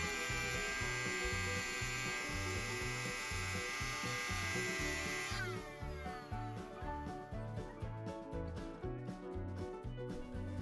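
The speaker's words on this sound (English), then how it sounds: "the chuck on the Dremel tool is loose, causing the bit to move up and down" A Dremel rotary tool with a loose, wobbling chuck cuts a metal spoon lure, giving a quiet but continuous high buzzing whine with a rapid pulsing flutter that shifts in tone about halfway through.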